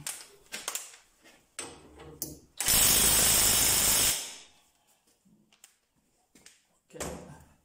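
A Parkside cordless 1/2-inch impact wrench from Lidl, rated at 400 Nm, hammers at a bolt for about a second and a half, loud and close, between scattered handling clicks and clanks.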